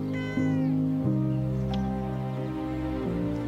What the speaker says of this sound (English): Alfie, where is the cat